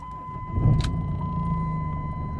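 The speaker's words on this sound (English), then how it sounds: "I'm going to start the car." A Jeep Cherokee engine with ESP and BAS warning lights on cranks and catches, settling into a low steady idle with a faint high whine above it.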